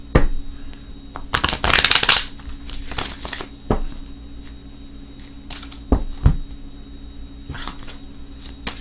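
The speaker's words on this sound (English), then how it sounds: "So let me see if I can shuffle" Cheap playing cards are shuffled in bursts, a loud riffling flutter early on followed by softer scattered flicks and taps of the deck, close by in a quiet room with no talking.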